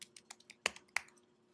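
A short, quiet burst of keys struck on a computer keyboard as a name is entered, about eight sharp close clicks in an uneven rhythm, two of them noticeably harder, with no speech.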